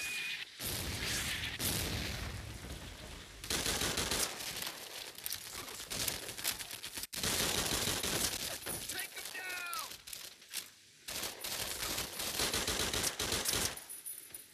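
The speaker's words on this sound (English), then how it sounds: "I'm pretty sure I just shot that guy in the knee." Dense, rapid gunfire and sharp impacts from the shooter game Medal of Honor Heroes 2, heard in repeated loud bursts through the whole stretch while someone talks over the action.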